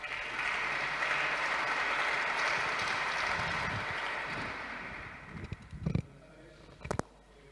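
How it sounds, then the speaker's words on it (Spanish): Applause from a conference audience at an international congress session on geostrategy, steady for about five seconds and then thinning out, with a few scattered handling bumps near the end. "Un aplauso, por favor."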